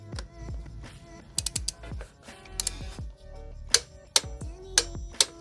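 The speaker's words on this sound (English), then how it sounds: "I'm just going to nip up the last of it with the torque wrench" A torque wrench clicks and ratchets in sharp, uneven bursts while snugging a new NGK spark plug into a MK2 Seat Leon engine, with metallic ticks close up and no talk.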